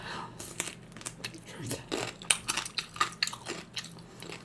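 Crunchy bites and chewing of cubed radish kimchi eaten with Korean sundae gukbap, a blood sausage and rice soup, close up as a string of sharp crisp crunches.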